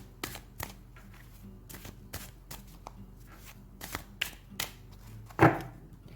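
A Game of Thrones tarot card deck is shuffled by hand, giving a string of crisp card taps and riffles up close in a quiet room, ending with a louder thump.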